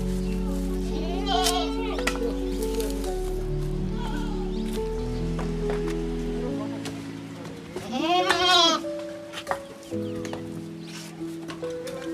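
A young goat bleats twice in wavering cries at a Nepali village home, heard over a steady low hum and background tones.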